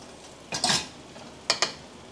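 A crispy noodle cake is flipped in a frying pan in a home kitchen, two quick pairs of metallic clanks and scrapes against the pan, with quiet gaps between.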